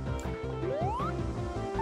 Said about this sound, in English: That is the sound of Sonic about to drown.